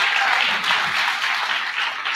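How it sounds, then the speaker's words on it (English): A comedy and poetry night crowd claps for the panel, a brief, full burst of applause that stays loud and even throughout. "Can we clap for the panel, please?"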